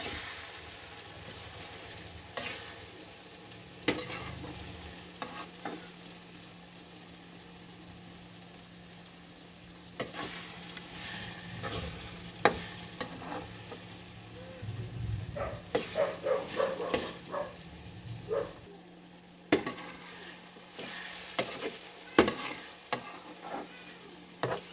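Chillies frying in oil as they are stirred, with a low steady sizzle broken by irregular scraping and clattering stirs that grow busier partway through.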